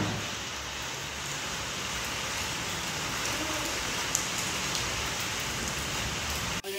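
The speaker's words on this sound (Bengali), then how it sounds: "প্রচুর বৃষ্টি পড়ছে" Heavy rain falling outside, a steady, dense hiss of drops on surfaces throughout, close and continuous with no talking.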